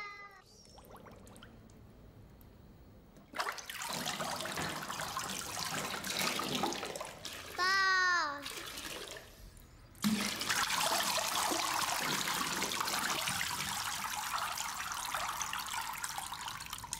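Water trickles and sprinkles steadily from a toy bottle pierced with many holes, a close, continuous hiss that starts after a quiet opening. A short, high, catlike cry breaks in midway.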